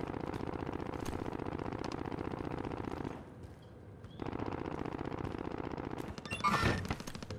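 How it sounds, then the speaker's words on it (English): Rapid automatic gunfire from another player in Call of Duty: Modern Warfare, loud, dense bursts running for about three seconds, a short lull, then renewed firing that swells into a heavier burst near the end. "somebody else shooting me"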